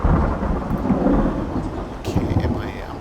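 Active Sky weather in X-Plane 11 rumbles with rolling thunder over a bed of steady rain, with a sharper crack of thunder partway through, continuous and fairly loud.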